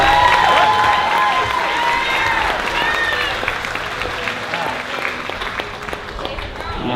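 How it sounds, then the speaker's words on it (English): A wedding crowd applauds and cheers, with steady clapping and scattered whoops and shouts early on that settle into continued clapping. "How many round of applause for David and his brother over there?"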